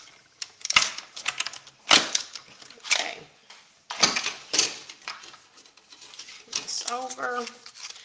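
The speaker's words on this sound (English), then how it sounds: "A little mini die cutter over here." Stampin' Up mini die cutter being cranked at a craft table, a series of close, clattering mechanical clicks and thumps in uneven bursts, with a voice talking briefly near the end.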